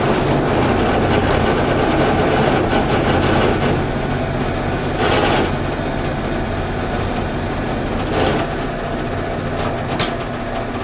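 Drilling a small hole through 1/2 inch pipe, a continuous motor drone with grinding bit noise and a few brief sharp bursts as the bit bites, close and loud with no talking.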